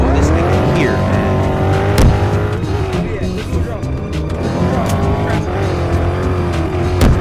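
A car in a Roblox hood game drives with a constant loud engine drone, shifting pitch as it accelerates and corners, while players talk over it.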